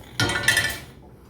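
Metal tawa griddle set down on a gas stove under a pan, a single close metallic clank with a brief ringing tail, alone without talk.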